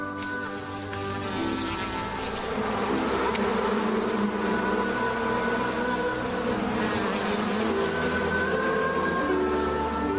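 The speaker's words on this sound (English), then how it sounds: "A swarm of bees descended on his cot as if around honey." Dense buzzing of a bee swarm, loud and sustained with overlapping droning tones throughout, no voices.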